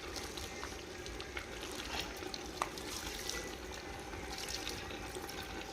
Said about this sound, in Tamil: இது இன்னும் கொஞ்சம் தண்ணி ஊற்றிக்கலாம்.